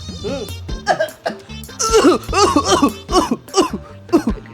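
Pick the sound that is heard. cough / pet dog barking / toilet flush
cough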